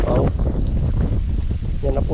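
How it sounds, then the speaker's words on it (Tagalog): Wind blows hard across open farmland, a steady broadband rush buffeting the microphone for the whole stretch, with a person talking over it. "Sarap ng hangin."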